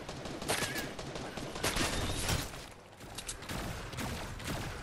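Rapid bursts of gunfire crackle continuously in a Fortnite match, dense and fairly loud, layered with game effects throughout.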